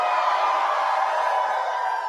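A live convention crowd at a New York anime panel cheers and shouts in a steady, dense roar that holds at a constant level throughout.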